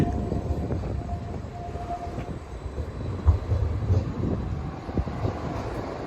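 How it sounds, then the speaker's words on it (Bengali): An electric Edinburgh tram runs along Princes Street, giving a steady low rumble and rolling hum that swells slightly midway, heard from close by with no talking. "দেখেন ট্রাম চলছে প্রিন্সেস স্ট্রিট দিকে যাচ্ছে"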